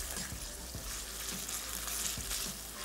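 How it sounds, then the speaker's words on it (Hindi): Chicken pieces frying in a pot: a steady close sizzle and crackle with occasional soft stirring knocks, no voices. "और इसको हमने खूब अच्छी तरीके से फ्राई कर लेना है"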